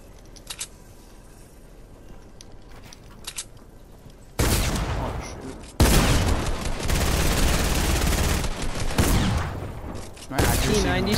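Gunfire in the video game Fortnite, with a sniper in play: quiet early pops, then loud, dense bursts of shots and booms after about four seconds that continue in heavy, overlapping volleys.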